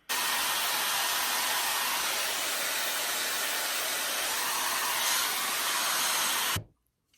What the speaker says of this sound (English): So back to diffusing.